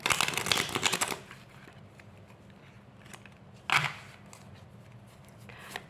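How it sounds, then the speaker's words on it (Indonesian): Tarot cards are shuffled in a dense, crisp riffling burst over the first second, followed by a quiet stretch broken by one short sharp card slap near the middle and a faint rustle at the end, close and alone. "Aku shuffle dulu kartu tarotnya."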